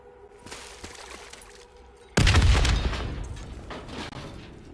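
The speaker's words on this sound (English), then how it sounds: "The explosion blocked our path." A sudden loud explosion in a PS4 game breaks in mid-way, a sharp booming blast followed by crackling, rumbling debris that slowly decays, after a quieter stretch of ambient game noise.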